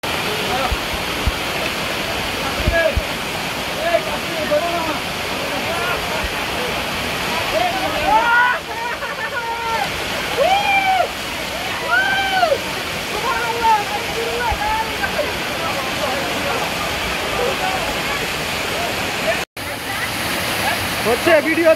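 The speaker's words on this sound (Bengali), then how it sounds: "অল্প কিছুক্ষণের বৃষ্টিতে ঝর্ণাতে অনেক বেশি পানি বেড়ে গেছে" A waterfall swollen after a short rain roars in a broad, continuous rush of falling water, loud and close, with people faintly talking beneath it.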